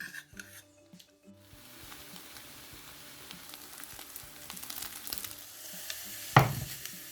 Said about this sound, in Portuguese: Agora eu vou refogar com a manteiga.